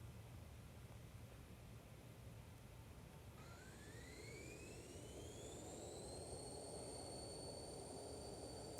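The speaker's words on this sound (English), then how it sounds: "We'll hit play here and take off in my airplane inside of Unity." A jet airplane engine in a Unity video game spools up and rises steadily in pitch as it takes off, a synthetic whine building over a constant hiss, with no voices.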